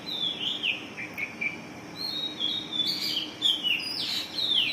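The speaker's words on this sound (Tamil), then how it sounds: "சவுண்டு விட்டுக்கினே இருக்குது ஃப்ரெண்ட்ஸ் இந்த சிட்டுக்குருவி." A sparrow chirps again and again with quick, bright, high tweets in short irregular bursts, fairly close and clear over a soft steady background hiss.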